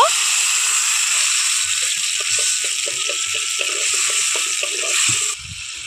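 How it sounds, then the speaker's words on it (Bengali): Water splashes into a pan of ground cumin paste, a short steady pour with bubbling and clattering underneath, cutting off abruptly near the end. "অল্প একটু জলও দিয়ে দিচ্ছি, কারণ কিছু গুঁড়ো মশলা এখানে অ্যাড করব।"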